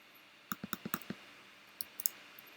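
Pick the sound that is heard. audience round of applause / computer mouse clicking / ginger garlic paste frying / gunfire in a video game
computer mouse clicking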